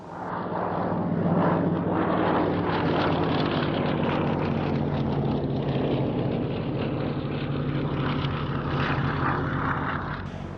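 Soviet Polikarpov I-152 biplanes flying at an airshow, a steady loud droning propeller engine roar that holds evenly throughout, without talking.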